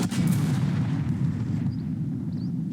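Artillery fire in the Second Front war game: a heavy, loud boom rolling into a long rumbling decay that fades over a few seconds, heard alone without talk.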